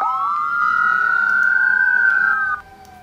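Emergency vehicle siren from the game Emergency 4, a steady rising-and-holding wail close and loud for about two and a half seconds before cutting off abruptly.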